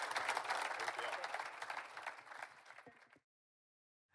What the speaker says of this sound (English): let's give Dilip and Maneesh a huge round of applause for sharing their idea and coming home.